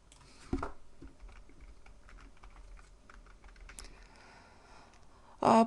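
Fingers typing a chart title on a computer keyboard, with quiet scattered key taps close by and a couple of louder clicks at the start and end.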